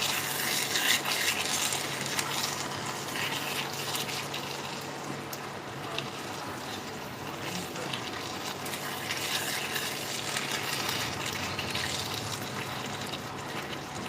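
Dum aloo potatoes frying in oil in a pan while being stirred, a steady low sizzle with soft scraping and occasional bubbling that holds evenly throughout, with no talking.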